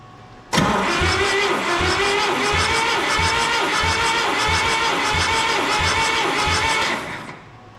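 A diesel engine in a 1972 Allis Chalmers M65 road grader cranks over during a compression test, starting abruptly and holding a rapid, even chugging rhythm for about seven seconds before cutting off, loud and close.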